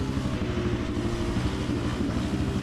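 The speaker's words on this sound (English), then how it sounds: "putting his finger in his ears as the roar of engines grew louder" Quad bikes tear around a dirt track, their engines blending into a steady, dense, throbbing roar with no break.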